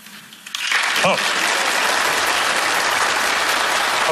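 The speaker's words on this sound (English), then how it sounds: "Applause for dealing." Loud studio audience applause breaks out suddenly during a magic show card trick and continues steadily, a dense wash of clapping with a brief shout near the start.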